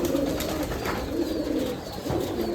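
Giribaz pigeons at a large pigeon farm coo in soft, low, overlapping calls that continue steadily at close range.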